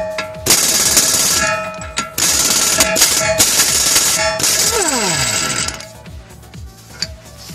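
A 32mm socket on a ratchet or impact tool loosens the wheel bearing nut on a Cadillac Catera, loud repeated mechanical rattling and clacking in bursts, close up, easing off toward the end.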